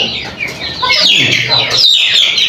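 Native chickens kept inside a room give off a busy mix of close clucks and chirpy calls, several birds overlapping, with a voice audible among them.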